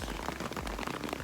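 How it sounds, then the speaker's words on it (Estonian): Heavy rain falls steadily during a hike, a dense close patter of drops hitting surfaces all around, loud and continuous. "nii kõva vihm."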